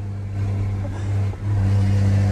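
A car engine revs close by in a steady, loud drone that dips briefly and then surges again.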